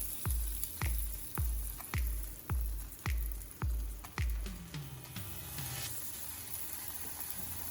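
Lobster roll buns frying and sizzling over an open fire, with a series of about eight sharp spatula scrapes and taps as they are flipped, then a steady crackling sizzle carrying on alone.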